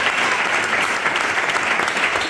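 A church congregation in Useras, Spain, applauds during a worship service. Continuous, lively clapping from many hands fills the whole stretch at an even volume, with no talking over it.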